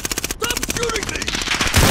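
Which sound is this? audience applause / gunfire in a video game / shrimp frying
gunfire in a video game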